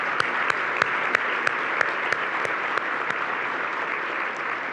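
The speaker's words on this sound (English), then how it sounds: "Let's give them a big round of applause." An audience at a county chamber of commerce dinner claps warmly and steadily, a dense roomful of hands with a few sharper individual claps standing out, sustained without talk.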